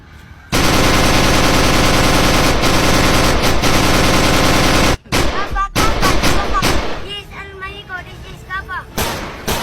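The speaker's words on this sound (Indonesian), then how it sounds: "Aksi baku tembak antara petugas kepolisian dan kelompok perampok berlangsung 6 jam." Gunfire in a police shootout with armed robbers: a sustained, very loud barrage of rapid automatic shots, then a brief break and scattered bursts mixed with shouting voices.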